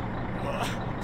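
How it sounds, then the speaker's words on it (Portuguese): A truck engine revs steadily to drive a hydraulic pump while a septic tank is pumped out in the game My Summer Car, a broad continuous rumble without talk. "E vamos acelerar o caminhão"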